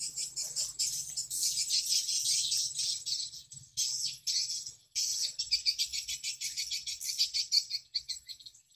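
Dense, rapid high-pitched chirping of a recorded swiftlet mating call, continuous and fairly loud, with a faint low hum underneath.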